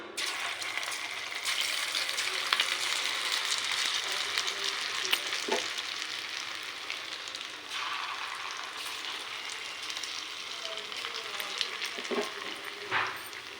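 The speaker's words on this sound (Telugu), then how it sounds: "ఇలా బాండీ నిండా పకోడీ వేసుకుని వేపుకోవాలి" Meal maker pakodi deep fry in a pan filled with hot oil, giving a continuous dense sizzle at moderate level. Occasional soft stirring knocks break through the steady bubbling.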